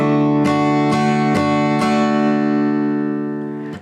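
An acoustic guitar strums slowly in a down-up pattern, one chord struck four times in an even rhythm. Each stroke rings loudly, the strings sustain clearly, and the sound fades out at the end, with no voices.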